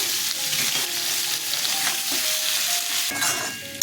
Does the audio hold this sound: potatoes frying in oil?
yes